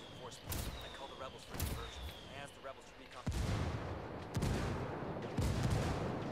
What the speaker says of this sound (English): Mortar coming right now, so get go for it. Blow it up.